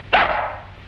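A dog named Mr. Carson gives a single sharp, loud bark close by in an old film soundtrack, trailing off quickly over a faint hiss.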